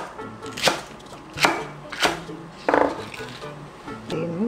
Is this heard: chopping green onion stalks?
yes